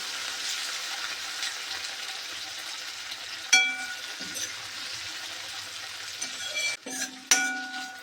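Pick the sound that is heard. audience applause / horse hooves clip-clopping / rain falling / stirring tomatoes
stirring tomatoes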